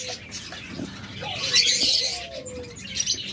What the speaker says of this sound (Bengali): দেখুন ককাটেলগুলো কিন্তু টেম